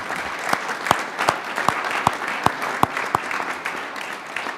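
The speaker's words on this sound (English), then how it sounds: "So Kristen and family, you guys deserve a round of applause." An audience at a town select board meeting claps, giving moderate steady applause with a few louder individual claps standing out in a regular rhythm, fairly close and sustained throughout.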